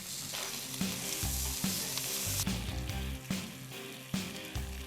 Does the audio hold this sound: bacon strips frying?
yes